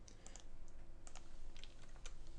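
Keys clatter on a computer keyboard in quick, uneven runs of clicks over a steady low hum, close and clear.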